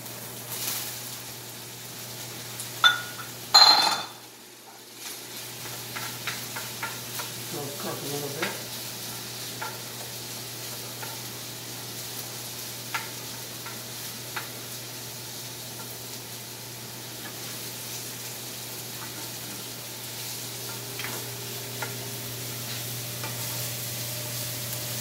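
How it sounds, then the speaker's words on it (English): Onions and garlic sizzling in oil in a pan for pork chops with red wine, a clatter as they go in, then a steady close hiss with occasional spoon scrapes. "Add a little bit more oil. And we're going to put our onions and garlic in."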